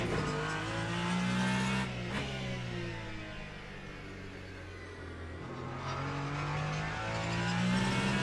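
Simulated Ferrari 499P prototype at Fuji in Le Mans Ultimate, the engine note rising and falling through gears with brief tyre squeal, loud and continuous throughout.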